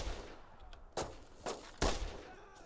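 Three sharp gunshot bursts crack out at uneven intervals over a low background rumble in the World War II shooter Brothers in Arms: Road to Hill 30, moderately loud and with no talk.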